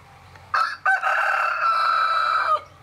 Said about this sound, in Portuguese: E o galinho cantando aqui debaixo do pé de primavera.